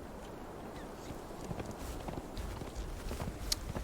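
Horse hooves clip-clop along at a steady walking pace in the Conan Exiles video game, faint and fairly close, with light ambient rustle and no talk.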